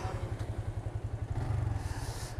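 A motorcycle engine being throttled after repair, idling with a fast steady putter that swells briefly in a short rev, heard close and alone.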